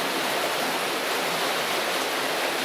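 A huge volume of water rushes out from behind a dam in a loud, steady roar, close and unbroken, with no voices.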